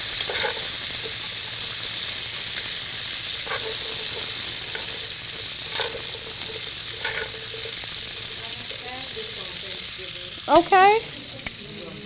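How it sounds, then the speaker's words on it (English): Green beans sizzle steadily in hot bacon grease in a pan, a loud continuous frying hiss with occasional clicks of tongs tossing them, a brief word spoken near the end. "We're going to use these tongs and we're going to toss everything. Make sure it gets coated with that bacon grease."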